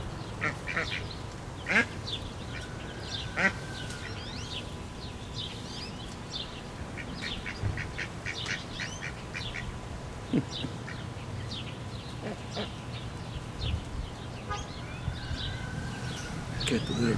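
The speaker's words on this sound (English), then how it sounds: "Little duckies." Ducks quack outdoors in a scattered, irregular chorus, some calls near and some farther off, mixed with small bird chirps over a steady low background hum.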